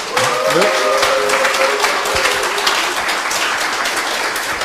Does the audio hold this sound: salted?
no